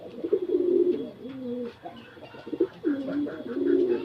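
Pigeons kept on a rooftop cooing, close and moderately loud, several rolling coos in a row with brief pauses between them, no talk over them.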